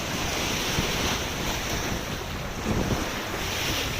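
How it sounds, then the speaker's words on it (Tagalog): Strong sea waves crashing against a seawall at Olas, Lagonoy, a dense continuous roar of surf mixed with heavy wind noise on the microphone. "Yan yung alon ng seawall ng Ulas."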